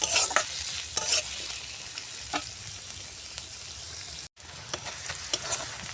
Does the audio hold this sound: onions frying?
yes